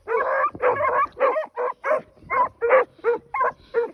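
Several thin hound puppies, the orange male among them, bark and yip in a rapid run of about eleven sharp, close calls with brief whimpering mixed in, loud and steady throughout.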